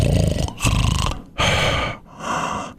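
A person imitates snoring with loud, rasping breaths, three drawn-out snorts separated by short pauses, very close.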